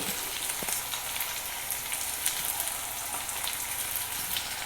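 Onion, green chili and curry leaves fry in a pan for a Kerala egg mappas, giving a dense, continuous sizzle and crackle at close range.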